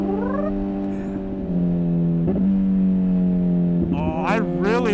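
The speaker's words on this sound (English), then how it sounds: "I really like when you do the quick shifter down, the little pop gurgly thing" A Honda Hornet motorcycle fitted with a Yoshimura exhaust hums with a steady, tonal engine note, then breaks into a short burst of popping and gurgling as the quick-shifter blips the downshift.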